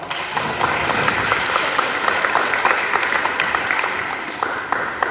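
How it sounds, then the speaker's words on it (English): Loud, dense applause from a crowd at a fourth-grade awards assembly, many hands clapping steadily for about five seconds with a slight fade at the end and a few voices underneath. "Let's give them an extra round of applause."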